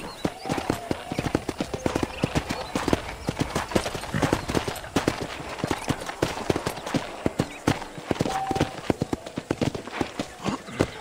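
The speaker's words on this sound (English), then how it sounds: "Giddy up! We'll take Black Beauty here" Horse hooves clip-clopping at a steady trot in the Red Dead Redemption western video game, a dense rapid rhythm of close hoofbeats running throughout with occasional faint background sounds.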